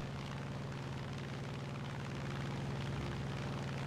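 Planes roar steadily overhead during air support in War Thunder tank combat, a loud, constant droning rumble that stays continuous for the whole stretch.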